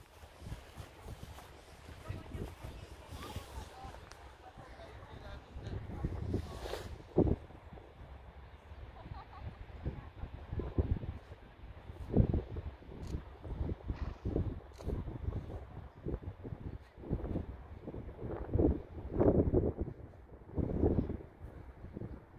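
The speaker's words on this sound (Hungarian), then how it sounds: "Megint föltámad a szél" Outdoors, wind picks up into a low, gusty rumble that buffets the microphone, gradually growing stronger in uneven surges over a quiet background.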